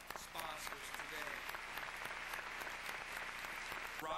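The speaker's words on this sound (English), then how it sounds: "join me in a round of applause on behalf of all of our sponsors today" An audience claps steadily in thanks to event sponsors, a sustained, fairly soft patter of many hands with occasional sharper individual claps and a faint murmur of voices beneath.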